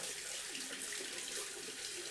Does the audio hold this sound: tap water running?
yes